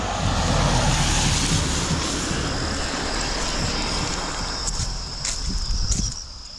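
Water runs from a pipe by the roadside, making a constant broad rushing wash that dominates throughout, easing slightly toward the end.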